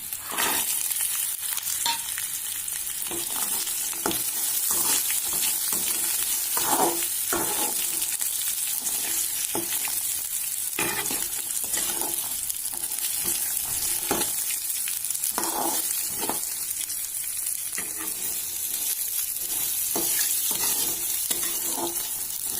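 Sprouted legumes stir-fried in a pan with peanuts, a continuous sizzle broken by repeated scraping and clacking strokes of a spatula, close and steady with no talking.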